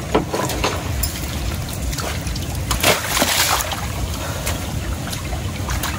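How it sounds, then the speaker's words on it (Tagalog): Floodwater flows fast down a swollen river next to a hut, making a loud, continuous rush with sloshing and splashing throughout. "Mabilis po ang pag-agos dito ng tubig."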